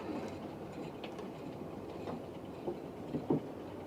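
A model train runs along a model railway layout in a home train room, giving a steady, close rolling rumble with faint wheel clicks and a few brief louder clacks near the end; no one speaks.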